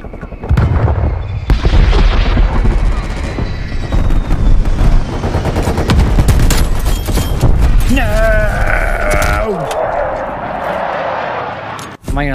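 Rapid video-game gunfire bursts crackle loudly through a Halloween live stream, overlapping with continuous excited talk and other game sound effects.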